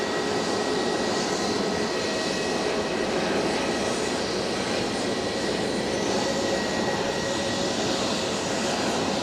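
Lufthansa airliner at Edinburgh Airport, engine roar loud and constant, a dense continuous rush that never lets up across the stretch, with no talking.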